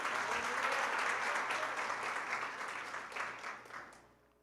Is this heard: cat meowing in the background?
no